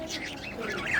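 A pet budgerigar chirps and chatters in short, bright, close-up twitters over a faint background, the calls rising slightly toward the end.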